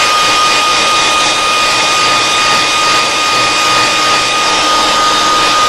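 A heat gun blasts continuously to set paint on a fishing bait, a loud, steady roaring hiss with a thin whine running through it from start to finish.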